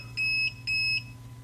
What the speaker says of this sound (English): You'll have to excuse the alarm.